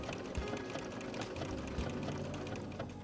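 A Brother PC8500 sewing machine stitches with a side cutter foot trimming the seam edge, a fast, steady mechanical whir with rhythmic clatter, close and fairly quiet, no talk.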